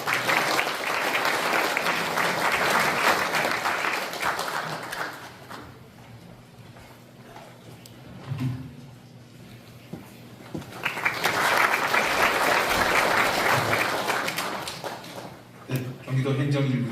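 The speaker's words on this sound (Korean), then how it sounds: "올라오실 때 큰 박수 부탁드립니다" Audience applause at a Korean Provisional Government founding anniversary ceremony: a dense burst of clapping from a crowd, a quieter stretch where a voice speaks, then a second strong round of applause before the clip ends.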